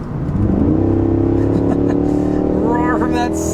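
A 2025 Cadillac Escalade's 6.2-liter V8 in sport mode roars loudly and steadily while accelerating onto a highway, heard from inside the cabin, with the engine note climbing in pitch and a voice speaking over it near the end.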